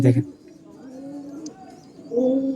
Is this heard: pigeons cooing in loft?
yes